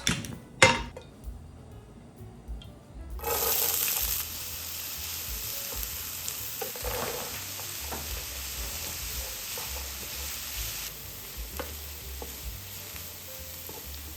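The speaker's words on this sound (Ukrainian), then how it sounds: "будемо їх смажити" Steady sizzling of onions and carrots frying in a pan, loud and continuous after a brief clatter at the start, with occasional stirring scrapes.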